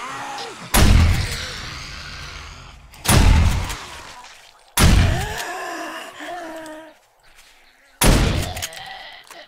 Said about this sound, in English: Fortunately, I do have a shotgun.